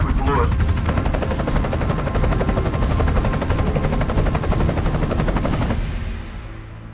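A helicopter roars close overhead in a tense action scene, a dense, loud whirring with rapid blade chop under a wash of noise, fading near the end.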